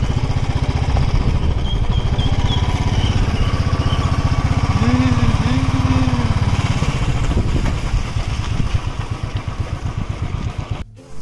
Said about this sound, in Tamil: ஜேசிபி வேலை செய்யுது.